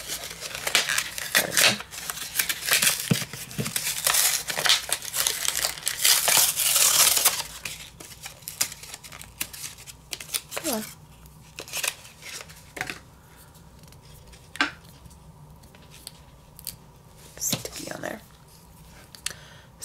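Packaging of a calligraphy pen set being unwrapped, with loud crinkling, tearing and crushing of plastic and paper for several seconds, then sparser rustles and clicks as it settles.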